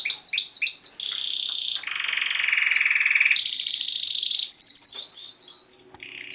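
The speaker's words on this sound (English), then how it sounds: "A good show canary will sing for the judges" A show canary sings a bright, loud sequence of varied trills, sustained whistles and rapid repeated chirps, close up with no other sounds.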